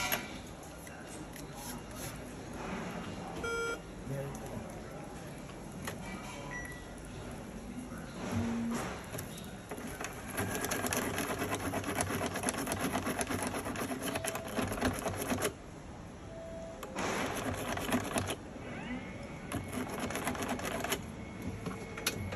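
A key cutting machine cuts spare keys with a buzzing, chattering grind in several bursts, louder stretches in the middle and near the end, while people talk nearby.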